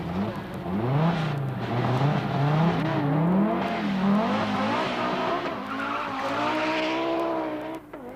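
Audi Sport quattro climbing the Shelsley Walsh hill, engine note rising and falling steadily through gear changes with tyre scrub, loud and continuous throughout without any talk.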